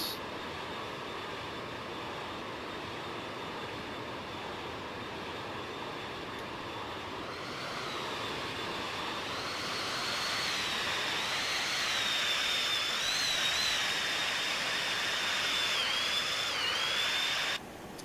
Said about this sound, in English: You really get that awful, at least for your ears, awful, painful sound from those old jet engines.